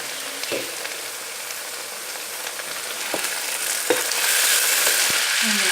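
Okra with green chilli and chopped tomatoes cooks in a pan over low heat, giving a steady soft sizzle and crackle. A few scattered clicks and taps sit on top, and it grows slightly louder toward the end.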